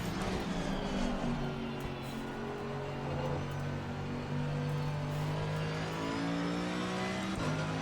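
A race car engine revs in a sim racing video game. It gives a loud, continuous engine roar, and its pitch climbs and shifts through the gears without pause.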